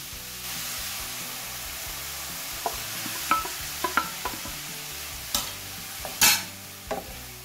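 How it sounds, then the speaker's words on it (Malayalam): Curry leaves and sliced green chillies sauté in a hot pan, a soft continuous sizzle broken by scattered crackles and pops and occasional spatula stirs, close and fairly quiet. "ഇതെല്ലാം കൂട്ടിയിട്ട് വഴറ്റിയെടുക്കണം."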